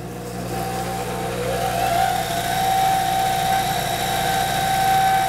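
A shaft-spinning machine turns a golf club shaft for sanding and finishing the ferrule, giving a steady, fairly loud motor whir with a constant low hum and a sustained mid-pitched tone that builds slightly, with no talking over it.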